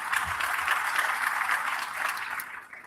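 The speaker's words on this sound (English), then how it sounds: "you can start that wonderful round of applause for us" A round of applause at an online national launch for a waste innovation challenge: dense, steady clapping that holds at an even level, then thins out and fades in the last half second.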